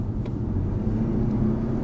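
A Lexus UX accelerates at full throttle, its engine a subdued, steady low hum and road rumble that stays fairly quiet throughout.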